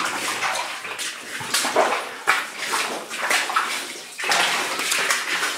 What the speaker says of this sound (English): It's a bit like gurgling noise.